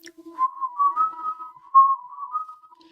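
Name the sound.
voice imitating an eerie whistling from outside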